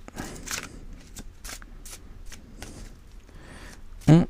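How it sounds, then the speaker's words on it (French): Tarot cards slide and riffle in several soft, short bursts close by, with quiet gaps between them, then one louder thump at the end. "Elle glisse ses cartes"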